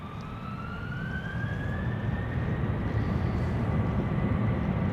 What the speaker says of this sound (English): We have KLM flight 765 to Aruba, Oranjestad lined up, spooling up. It's going to get loud.